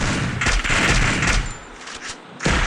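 Rapid bursts of automatic gunfire crackle in the Free Fire battle royale video game, loud and close, with dense clustered shots dropping briefly before a final burst.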